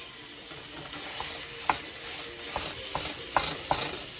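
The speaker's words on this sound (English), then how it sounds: "And then in goes your 1 pound of your ground beef." One pound of ground round beef sizzles steadily in a preheated pan, a continuous hiss broken by a few sharp scraping clicks as the meat is stirred and pushed down.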